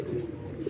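A pigeon gives a short, soft cooing call, close and clear, lasting under a second with no talk over it.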